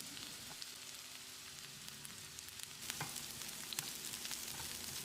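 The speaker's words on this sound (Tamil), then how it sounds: "வெங்காயத்தை கண்ணாடி பதத்துக்கு வதக்கிடலாம்" Sliced onion sautés in oil in a pan, a quiet steady sizzle with a few brief clinks and stirring sounds partway through, no voices.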